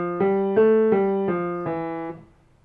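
A piano plays one round of a Hanon finger exercise starting from C, five clear evenly spaced notes in a steady rhythm, close and moderately loud, with the last note ringing out before fading.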